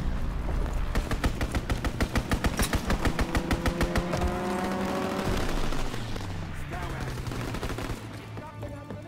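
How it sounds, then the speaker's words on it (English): A fighter plane strafes a target with rapid, loud bursts of machine-gun fire in the World War II video game Call of Duty WWII. Dense rhythmic volleys give way to engine drone and a descending whine. "Fighter pilot inbound, strafing the target."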